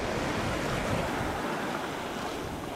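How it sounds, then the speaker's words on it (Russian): Sea waves wash around a swimmer in open water near the shore, giving a continuous close rush of surf and splashing with wind buffeting the microphone. "Я на воде, и у меня волной толкает меня постоянно."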